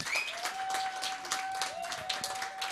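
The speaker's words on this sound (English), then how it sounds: "Please give a major round of applause." A modest audience at a live-streamed stage event claps in scattered, uneven bursts, fairly quiet and thin, with a steady electronic tone humming underneath.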